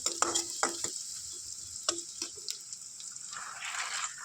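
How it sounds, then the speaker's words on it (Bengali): Onion and garlic fry in hot oil in a wok, a bright continuous sizzle with a string of clattering stirs early on and a swelling hiss toward the end, close by and without talk. "দিয়ে একটু ভাজা করে নিচ্ছি"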